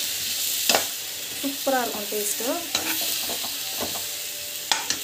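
Raw banana slices fry with turmeric and coriander powder in a pan, giving a soft sizzle under a spatula's repeated scraping and stirring, with someone speaking briefly over it.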